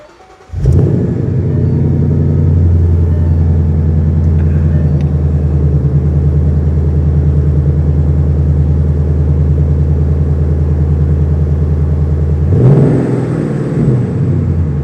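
A powerful 2014 Shelby Mustang GT350 engine fires up and idles with a deep, loud, throbbing rumble, then revs up near the end, close and sustained.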